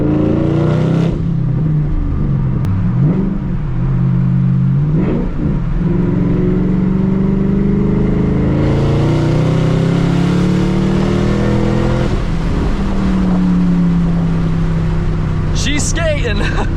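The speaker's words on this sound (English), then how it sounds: "Those tires are breaking loose so easily." A Shelby GT500's engine revs and roars loudly as its tires break loose, with steady engine drone, pitch swells and faint squeal, under excited talk in the car.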